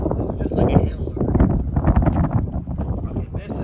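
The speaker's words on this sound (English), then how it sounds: "Sorry about the wind" Wind gusts buffet a microphone at an outdoor memorial field, producing a loud, rumbling roar that surges and dips unevenly for a few seconds while someone speaks over it.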